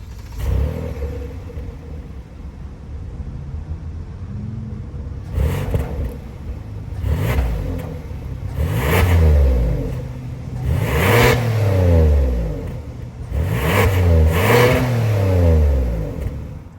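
A 2023 Kia Telluride SX X-Line's 3.8-liter V6 idles with a steady rumble, then is blipped through several loud, rising and falling revs, each swelling and settling back to idle, close up with no talking.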